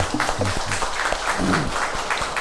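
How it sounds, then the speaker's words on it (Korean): A church congregation gives a short round of encouraging applause during a Sunday worship service, scattered claps building into a steady patter, with some voices mixed in. "우리 다 같이 격려의 박수 하겠습니다."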